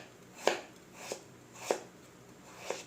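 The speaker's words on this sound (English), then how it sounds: "We need to cut them in thin julienne, and you cut carrots in julienne" A knife slices carrots into thin julienne strips on a board, four crisp separate cuts at an even pace, close and fairly quiet with no talk.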